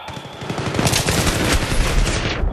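An AK rifle fires in Battlefield 3 team deathmatch on Noshahr Canals: loud, close, sustained rapid automatic fire with dense overlapping shots that cuts off abruptly at the end.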